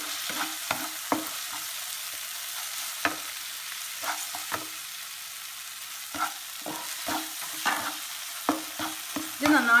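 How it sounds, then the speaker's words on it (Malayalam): Black pepper powder and garam masala are stirred into madakku pathiri filling in a pan, with repeated irregular spatula scrapes and knocks over a soft, steady sizzle, close and alone. "നന്നായിട്ടൊന്ന് ഇതിൽ മിക്സ് ചെയ്ത് കൊടുക്കാം"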